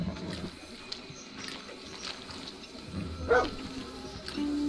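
Dog barking and yipping inside the video game Far Cry 6, a few short yaps mixed into continuous game ambience and background sound.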